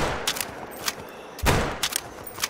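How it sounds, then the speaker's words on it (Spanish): Several sharp rifle shots crack out in quick bursts, with one heavier, booming blast near the middle, loud and close against a quiet background, in the hunting game The Hunter: Call of the Wild. "Vale, dos disparos."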